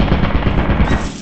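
Automated turret in the video game Lethal Company firing a rapid, steady burst of machine-gun shots, loud and close, with no talk over it.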